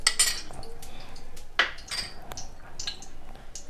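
A metal spoon clinks against a kadai as ghee is added for roasting dry fruits. A few sharp, scattered taps and scrapes sound close but quiet over a soft background.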